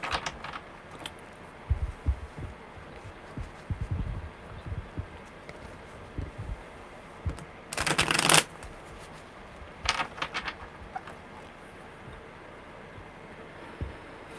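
Tarot cards being shuffled in short irregular bursts of riffling and sliding, close by, with quiet gaps between and one louder flurry midway.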